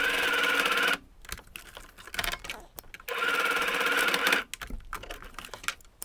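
A sewing machine stitches a strap loop on a bike seat bag in two fast bursts, each about a second and a half long, separated by quieter handling noise, close by.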